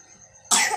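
A sick child with a fever gives a single sharp, close cough that bursts out suddenly after a quiet stretch with a faint steady tone in the background.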